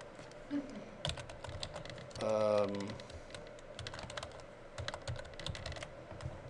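Password being typed on a computer keyboard, a quick run of light key clicks heard close by in a quiet room, with a short tonal beep partway through and a voice speaking faintly nearby.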